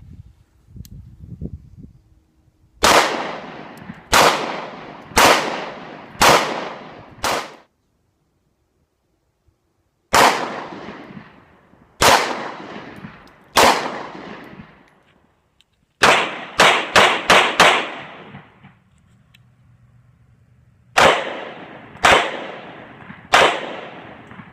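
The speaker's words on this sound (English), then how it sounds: "Down at the range doing a little shooting with this CC75 PO7." Sharp gunshots from a CZ 75 P-07 pistol at an outdoor shooting range ring out in spaced strings of three to five rounds, one rapid burst among them, loud and close with short decaying echoes.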